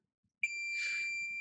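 A single sustained high-pitched multimeter continuity beep starts abruptly and holds steady, with faint scratchy probe contact noise beneath it, testing a capacitor on a Samsung S3 phone board.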